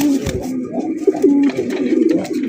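Pigeons cooing steadily at a loft housing around 25 to 30 pairs of fancy, racer and giribaz birds, several soft overlapping coos rising and falling close by with no talk.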